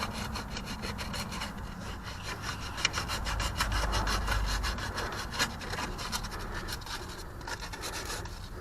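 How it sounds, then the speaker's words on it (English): Sandpaper rubs over a rusty cam position sensor on a Dodge Dakota or Durango engine. The scraping is steady and continuous, with fast back-and-forth strokes at moderate, close level and no voices. "that's a lot of sanding."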